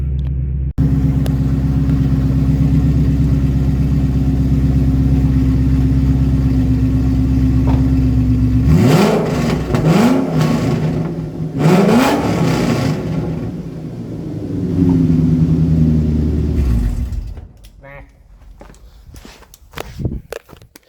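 A Shelby GT500 with an eBay WWP exhaust system runs at a loud, steady idle drone, then a few sharp revs blip in the middle before the engine settles and shuts off.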